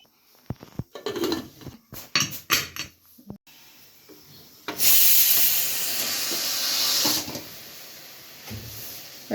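A pressure cooker with carrots inside lets out a loud, close, steady hiss of steam lasting a few seconds, preceded by scattered clanks and knocks of kitchen handling.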